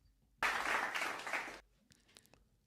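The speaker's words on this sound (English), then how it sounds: "Give yourself a round of applause." A short burst of applause cuts in suddenly, holds for about a second, then drops away, leaving a few isolated clicks and soft room noise behind it.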